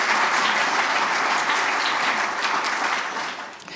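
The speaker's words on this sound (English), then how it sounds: "So let's give Kris a round of applause." Dense, sustained applause from an audience at a civic forum, loud and even for several seconds before tapering off near the end.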